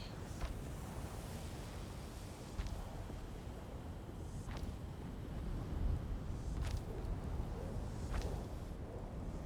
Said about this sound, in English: storm that's approaching us